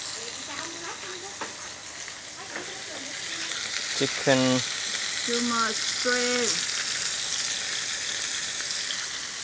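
Chicken and shrimp sizzle steadily in a hot pan, a dense, constant frying hiss that goes on under a few short bursts of talk.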